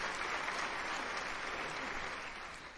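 Applause sound alert triggered during a card-trick and sleight-of-hand magic livestream, a steady wash of clapping with no voices that thins and softens toward the end.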